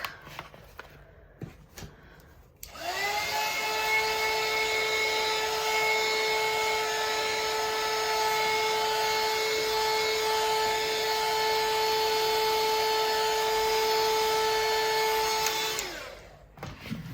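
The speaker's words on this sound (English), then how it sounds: "I think I'm going to hit it with the heat gun real quick" Heat gun blowing on an art journal page, a steady loud whirring hiss with a constant whine that switches on abruptly and runs evenly for about thirteen seconds before cutting off.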